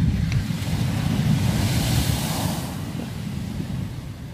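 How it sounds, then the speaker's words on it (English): Big sea waves at Walton on the Naze break on the shore in a broad surging wash that builds and slowly recedes, with wind buffeting the microphone. "Wow, look at some big waves today."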